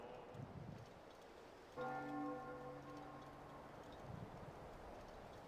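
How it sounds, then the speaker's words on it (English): A single faint, ringing bell tone in the RuneScape 3 video game sounds for about two seconds and then decays, over a quiet, rain-like background hiss. "Listen, can you hear? Is that the bell ringing?"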